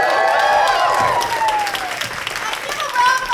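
A comedy show audience at a female comic finale claps and applauds loudly, with a whooping, sliding cheer and voices riding over the dense clapping.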